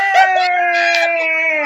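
A dog howls loudly and close, one sustained wavering howl with a second dog's voice layered in.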